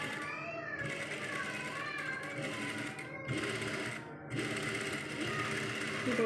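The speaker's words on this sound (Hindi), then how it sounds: "आराम से कपड़ा फोल्ड करते हुए आपने गले को इस तरह से स्टिच की सिलाई लगा लेनी है।" Sewing machine stitching a folded shirt or kurta neckline, a steady mechanical whir running throughout with slight surges, under a faint background of household noise.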